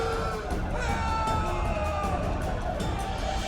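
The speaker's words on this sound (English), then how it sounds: "A riot erupts. A massacre ensues." A rioting crowd in The Witcher 2 game, a steady roar of many raised voices and shouting blended with a droning musical score, constant and loud throughout.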